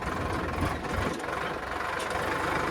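A tractor engine drones on steadily as the tractor heads out to plough a field, with a close, continuous rumble and no voices.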